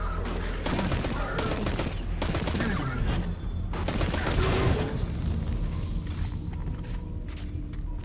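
Gunfire in Destiny 2, dense rapid shots in continuous bursts layered over a booming game soundscape, fairly loud throughout.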